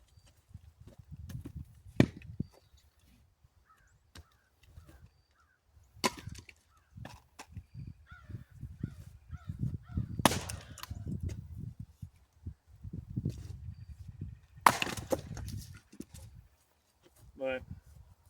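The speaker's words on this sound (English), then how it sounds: "Maybe I can't split it. I just keep hitting knots, knot after knot." A Gransfors Bruks axe strikes knotty wood being split, with several sharp, separate thuds and cracks spaced irregularly among quiet stretches, while someone talks at intervals between the blows.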